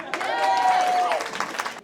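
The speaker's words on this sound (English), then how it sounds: "Clap for that." A small audience claps at a community event in Guildford, a short burst of scattered applause with a cheering voice holding a sustained note over it before the clapping tapers off.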